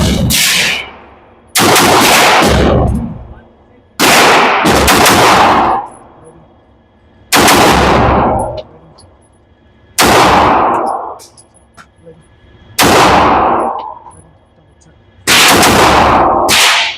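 Loud bursts of rapid gunfire at an outdoor shooting range, including a MAC9, come in seven separate strings of roughly a second each, spaced by short pauses, close and harsh.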